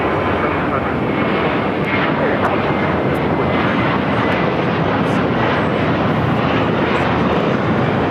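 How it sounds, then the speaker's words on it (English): A jet airliner taxis at LAX toward runway 25 right, its engines giving a steady, broad roar that holds evenly throughout at fairly close range, with faint background talk. "China Eastern now starting its taxi down to very busy 25 right."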